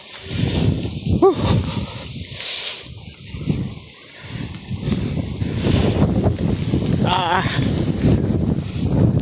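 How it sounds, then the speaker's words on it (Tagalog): Strong wind roars and buffets the microphone throughout, with voices talking and a boat's hum beneath the gusts. "talagang napakalas ng hangin"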